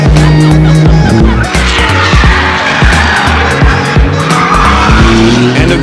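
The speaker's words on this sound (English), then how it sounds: "we get to throw ourselves around the track in a 911" Porsche 911 driven hard around a race track, engine roaring loudly and continuously while tires squeal and skid through corners, close and intense throughout.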